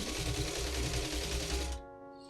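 A sewing machine runs steadily with a fast, even mechanical chatter, set to a 2 or 3 step zigzag with centered width, then stops abruptly, leaving a faint hum.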